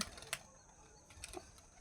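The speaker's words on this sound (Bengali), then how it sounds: "আবার দুটো পায়রা উড়ে আসছে" Pigeons flying in with a few quick bursts of wing flapping, two short clattering flutters over a quiet outdoor background.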